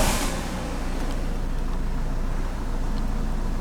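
A Ford car that had a no-start, no-crank fault fires up after repair, a brief burst at the start settling into a steady, loud running engine drone, with no talking.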